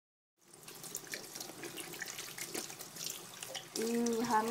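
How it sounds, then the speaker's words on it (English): Water runs steadily from a tap over hands being washed at a sink, a continuous close rushing splash that grows fuller toward the end. "Ooh, hand washing."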